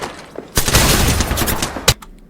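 Rapid automatic gunfire from Apex Legends bursts in abruptly and sustains as a loud, dense rattle for over a second, then ends with a final sharp shot and a couple of faint trailing cracks.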